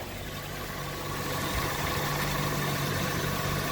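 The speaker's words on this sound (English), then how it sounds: "Sound of a happy engine right there." A 2022 Kia Forte engine idles steadily and close up during an oil change, a continuous low rumble with a faint hum, no voices over it.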